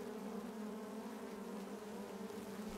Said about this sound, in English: Shake or tap your full frame of bees into a 5-gallon bucket.